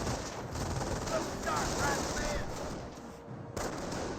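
Rifle fire crackles in a Company of Heroes battle as a steady wash of distant shots and rattling bursts, with a person talking over the din.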